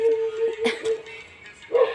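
A few brief dog barks come from a distance outdoors, one in the middle and another near the end, over a steady background hum.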